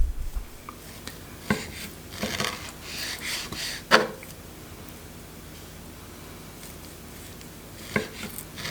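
Sharp kitchen knife slicing raw tuna into very thin carpaccio slices, with a few soft scattered cuts and board taps spread over quiet background, no talking.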